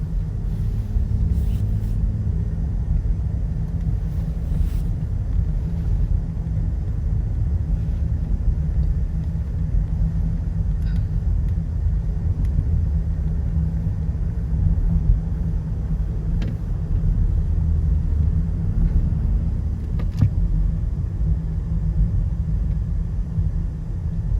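A vehicle's steady low rumble carries on through a scenic drive, an even road drone with faint cabin noise and no talking.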